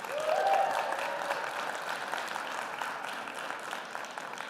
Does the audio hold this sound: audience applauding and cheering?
yes